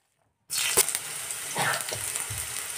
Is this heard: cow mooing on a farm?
no